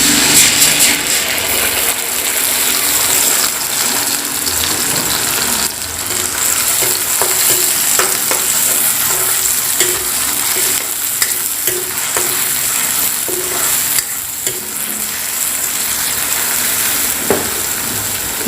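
Onion with ginger-garlic paste fries in a hot pan, giving a steady, loud sizzle and crackle throughout, with occasional stirring scrapes and no voices.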